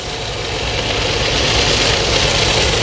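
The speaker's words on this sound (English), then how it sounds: "here comes the eastbound stack, YouTube, with Ferromex 4061 pulling out of Hobart" Ferromex 4061 freight locomotive pulling an eastbound stack train out of Hobart, a loud, steady diesel engine rumble with heavy low throb and broad roar that swells slightly, no voices.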